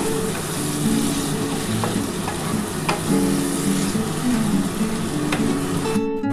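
Soybean chunks cooked down in spices as a curry, sizzling and frying steadily in a pan with occasional stirring scrapes, close and continuous with no talk.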